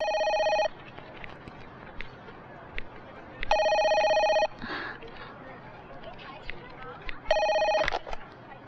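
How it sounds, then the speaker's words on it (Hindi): A telephone in a Hindi romantic film rings in three separate electronic bursts spaced a few seconds apart, with quiet background sounds and a brief noise between the rings. "हाँ राज, फोन है"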